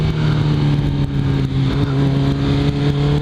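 Kawasaki Ninja ZX14R motorcycle leaning through a corner, its engine holding a steady loud drone with strong low harmonics and constant wind rush, heard close from the rider's position with no talk.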